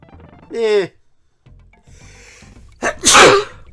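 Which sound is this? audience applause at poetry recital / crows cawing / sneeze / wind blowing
sneeze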